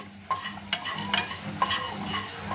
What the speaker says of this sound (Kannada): ಈಗ ನೋಡಿ ಇವನ್ನ ಮಸಾಲೆ ಐಟಮ್ಸ್ ಒಂದು ತಟ್ಟೆಗೆ ಹುರಿದು ತೆಗಿತಾ ಇದ್ದೀವಿ